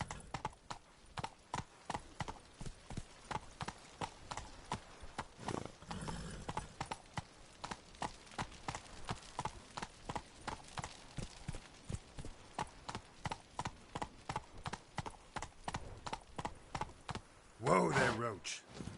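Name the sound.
horse Roach galloping, hooves clip-clopping, from a video game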